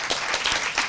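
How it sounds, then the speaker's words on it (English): Audience applause at an evening memorial lecture, a brief burst of dense hand clapping from a crowd, fairly loud and close, with no talk over it. "So let's give them a round of applause."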